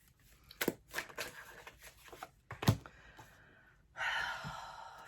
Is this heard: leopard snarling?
no